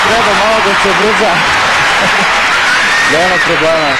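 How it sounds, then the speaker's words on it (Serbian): An arena audience at a Belgrade exhibition tennis match applauds steadily and loudly for the players, while a commentator talks over the clapping. "Veliki aplauz za Novaka Jelenu, Anu i Janka."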